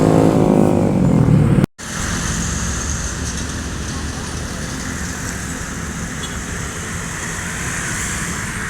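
Steady road traffic at night, with vehicles, likely Sumbar buses, rumbling past close by in a continuous loud drone after a brief dropout near the start.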